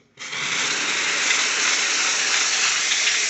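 A Dupray NEAT steam cleaner working on a glass-top table starts abruptly and releases a steady, loud, close hiss of steam that holds without a break.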